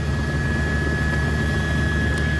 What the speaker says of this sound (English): Let's go to April and Monica up in Chopper 4 with some more information